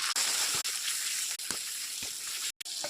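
Cumin, coriander, turmeric and chili frying in hot oil in a kadai for egg and potato curry give a steady, close broadband sizzle with a few brief gaps.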